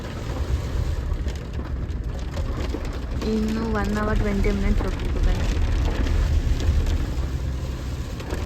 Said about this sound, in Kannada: ಅಷ್ಟು ಜೋರಾಗಿ ಮಳೆ ಬೀಳ್ತಾ ಇತ್ತು ಇಲ್ಲಿ